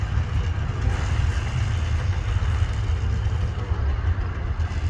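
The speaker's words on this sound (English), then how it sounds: "I think it's idling." A 1978 Yamaha DT dirt bike engine with a homemade carburetor jet idles steadily. The low rumble is loud and continuous with no talking over it.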